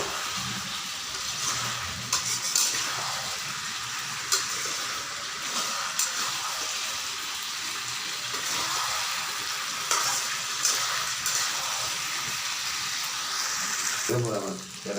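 Chicken feet sautéing in a pan over a high gas flame, a steady loud frying sizzle with occasional scraping stirs and clatter, running continuously at close range.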